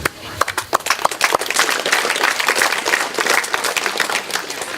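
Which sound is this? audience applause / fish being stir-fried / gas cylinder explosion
audience applause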